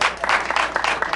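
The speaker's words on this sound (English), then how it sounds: "give a round of applause" Applause from a theatre audience, a dense burst of clapping that stays loud for a brief moment with a few stronger pulses.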